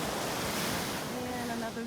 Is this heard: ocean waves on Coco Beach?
yes